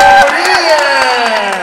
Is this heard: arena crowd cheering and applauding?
yes